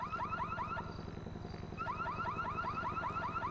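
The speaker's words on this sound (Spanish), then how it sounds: "Pues puedes encender la alarma." An Audi car alarm sounds with a rapid warbling, repeating tone, breaks off briefly for about a second and then resumes, steady and moderately loud with no talk.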